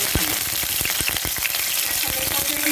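Two bay leaves drop into hot oil in a pan and fry with a loud, steady sizzle, broken by short crackling pops and a few soft stirring scrapes, with no talking.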